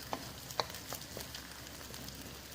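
Eggs and vegetables cook slowly in a pan, giving a faint steady sizzle with a few light taps and scrapes from stirring, quiet and close.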